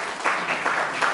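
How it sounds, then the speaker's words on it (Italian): A short burst of applause at an academic lecture introduction, many hands clapping at once in a steady, moderately loud patter. "Un applauso."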